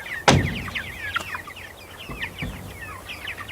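Chickens in a farmyard, young chicks alongside a rooster, give off a busy stream of high chirps and soft clucks throughout, with one louder call near the start and a couple of dull knocks later.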